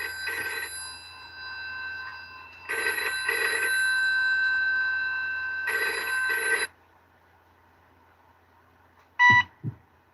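A telephone line rings out during a call, three long electronic ring bursts separated by pauses, followed by quiet and then two short beeping tones near the end.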